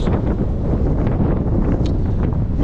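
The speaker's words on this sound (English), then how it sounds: "Hope you can hear me with the wind." Strong wind blows on the Tarkine coast, a loud, continuous roar of gusts buffeting the microphone with no pause.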